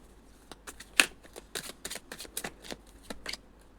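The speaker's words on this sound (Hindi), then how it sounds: "मैं दो कार्ड और निकालूंगी।" Tarot cards are shuffled and drawn, making a rapid series of crisp card flicks and snaps with one sharp slap early on, close and clear with no talking.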